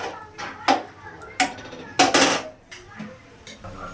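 A pot lid clatters onto a metal pot while Gobindobhog rice pulao cooks, several sharp clanks and scrapes spread over a few seconds, close and fairly loud against a quiet kitchen background.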